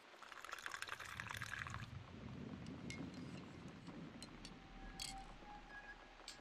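Water pours for coffee in the video game Cat Lady, a soft liquid splash then a gentle trickling fill with faint drips, quiet and close with no talk.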